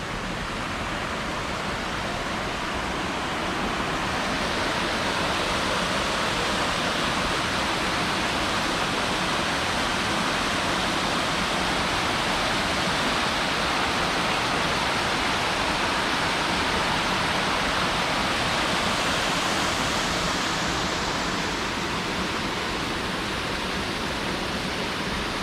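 A river running beside a campsite, swollen after days of rain, gives a steady, broadband rush of flowing water that stays constant and fairly close for the whole stretch, with no voices over it.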